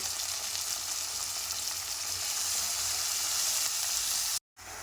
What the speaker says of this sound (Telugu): చూడండి, ముల్లంగి ముక్కలు ఎలా ఫ్రై అవుతున్నాయో ఆయిల్లో